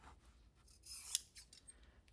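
Scissors snipping through thin cereal box cardboard, soft close crisp cuts with one sharp snip standing out amid faint rustling, and no voices.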